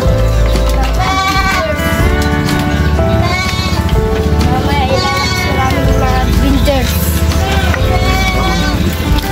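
Pet sheep and goats bleat in their pen, with many loud, overlapping wavering calls repeating throughout close to the listener.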